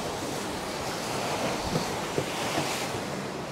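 Sea waves surge and break against a coral shore below a wooden railed viewpoint on the North Andaman coast, a steady wash of surf mixed with wind buffeting the microphone.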